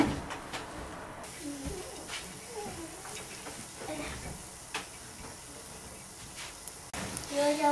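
Cottage cheese syrniki frying in a pan, a steady soft sizzle and crackle with occasional louder pops, close by, under light kitchen movement.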